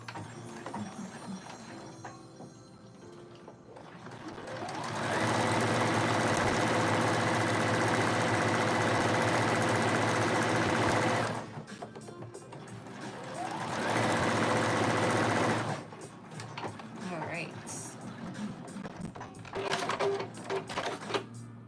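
A sewing machine stitches a jacket in two long runs of steady, fast whirring, each several seconds long, with quieter handling noises before, between and after them.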